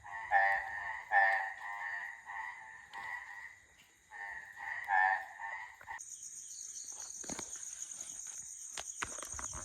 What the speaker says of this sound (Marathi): पाऊस पडला आणि बेडका आले.